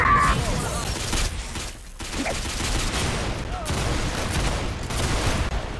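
Gunfire volleys in the video game Typical Colors 2, dense rattling bursts of shots that keep going for several seconds, loud and close, with brief pauses and a voice shouting orders.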